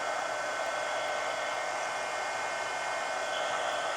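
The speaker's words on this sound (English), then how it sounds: "So now I'm going to hit this with the heat gun again." A heat gun blows hot air over mixed media collage card work, a steady, even whooshing roar that holds unchanged throughout.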